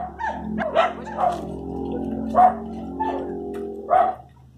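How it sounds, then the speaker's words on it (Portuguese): Dogs at a house bark in a handful of sharp, spaced yips and woofs, fairly near and clear against a quiet background. "Os cachorros dali a latir."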